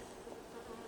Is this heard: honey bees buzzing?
yes